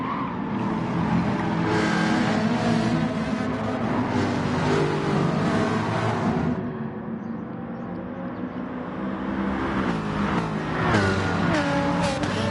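Several race cars accelerate hard in a Gran Turismo Sport online race at Dragon Trail Gardens, a Mercedes among them, engines revving loud and steady with rising and falling pitch throughout, no voices.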